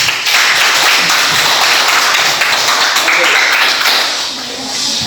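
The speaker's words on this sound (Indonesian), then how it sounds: "Oke, tepuk tangan dulu bersamanya." A classroom of vocational school students breaks into steady applause during a microteaching practice lesson, a dense continuous wash of clapping that softens slightly near the end.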